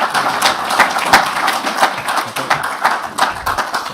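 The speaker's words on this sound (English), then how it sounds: "please give a big round of applause to our speakers for today" An audience at a talk on sustainability and the circular economy applauds the speakers, with many hands clapping in a steady, close patter that holds evenly throughout.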